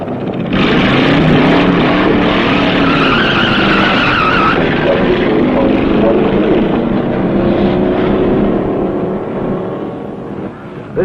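A car skidding on a test track: loud tire squeals and screeching rise and waver over engine roar, close by, fading somewhat toward the end.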